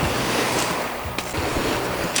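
Winter sea waves wash over a Crimean pebble shore in a steady, close, broadband rush, with a brief surge near the middle and faint wind noise throughout.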